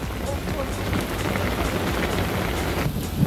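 Hail pelts down steadily on Mexico's Ruta de los Volcanes, a dense, continuous hiss and patter of hard pellets striking surfaces, fairly close and unbroken throughout.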